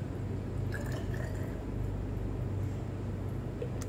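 About 80 ml of water is poured into a measuring vessel at a lab bench. A faint, steady trickle with soft drips sits under low background hiss.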